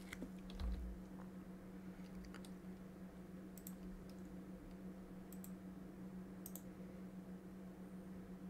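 A handful of faint computer mouse clicks and a keyboard shortcut tap sound sparse and close while working in embroidery software, over a steady low electrical hum.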